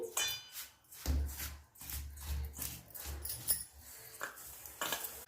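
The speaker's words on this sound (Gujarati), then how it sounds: "હવે આપણે બધું જ બરાબર મિક્સ કરી લઈશું" Bhakri flour being mixed with oil by hand in a bowl gives soft rubbing and patting sounds with a few light clinks, in irregular bursts up close, no talking.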